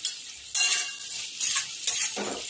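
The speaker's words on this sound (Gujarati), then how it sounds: "હવે ભીંડાને હલાવી લઈશું આપણે અને શેકાવા દઈશું" Okra is stirred and roasted in a pan at home for bhinda kadhi, with three bursts of scraping and sizzling from the spoon at close range.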